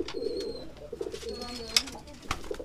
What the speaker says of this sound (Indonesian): agar merpati kesayangan teman-teman bisa giring seperti merpati saya